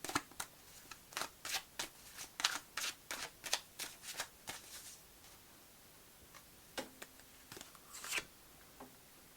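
Tarot cards shuffled and drawn from a deck during a card reading, a quick run of crisp riffling snaps and slaps in the first half, then a few sparser flicks and card placements, close and fairly quiet with no talking.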